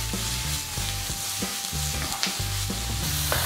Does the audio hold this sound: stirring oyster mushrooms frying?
yes